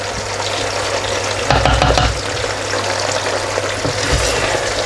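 Onions frying hard in a pan over high heat, a steady loud sizzle with a brief louder burst of stirring near the middle, no voices.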